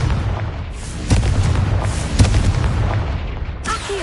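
Spell explosions from casting Confringo in a video game: three heavy, booming blasts land at irregular intervals over a continuous low rumble of game ambience, with no talking.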